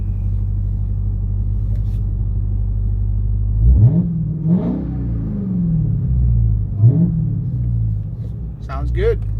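A 2021 Dodge Charger Hellcat Widebody's engine idles with a low exhaust rumble and revs up sharply three times, each rev dropping back, with a voice speaking briefly near the end.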